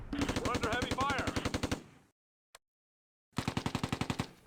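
Heavy automatic gunfire in the Close Combat A Bridge Too Far war game, rapid loud machine-gun bursts with a brief silent pause and a single isolated shot before another burst resumes.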